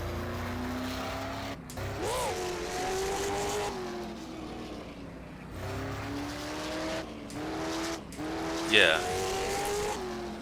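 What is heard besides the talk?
street stock race car engine, rFactor 2 video game mod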